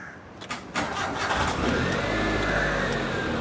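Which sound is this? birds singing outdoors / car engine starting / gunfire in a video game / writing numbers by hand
car engine starting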